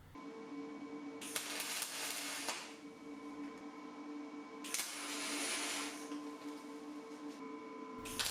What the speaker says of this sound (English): I'm starting here with tacking the front supports to the platform.